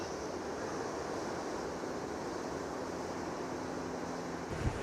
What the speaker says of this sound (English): we've got some pretty big waves heading in